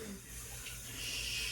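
Shower water running steadily, a loud continuous hiss of spray with no breaks or voices over it.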